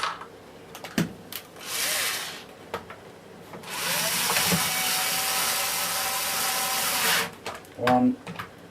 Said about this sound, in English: So then we turn it back over and we put our 4 screws back in.